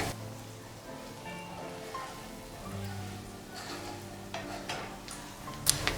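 Roasted masala and chili being stirred into fried sweet potato pieces in a pan for a dry sabzi: soft scraping and light sizzle over a low steady background, with a few sharper utensil clicks near the end.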